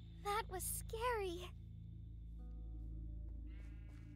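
A Minecraft sheep bleats twice in quick succession, close and wavering, followed by a quiet lull with a low background hum.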